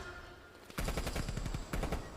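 Rapid bursts of automatic gunfire in a Call of Duty search and destroy esports match, starting abruptly after a quiet moment and repeating in loud, dense volleys with a second burst near the end.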